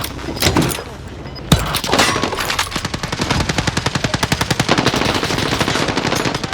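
Automatic gunfire rattles in rapid, evenly spaced bursts from a gun in Call of Duty Warzone, loud and close, after a few heavier single shots and some scattered noise.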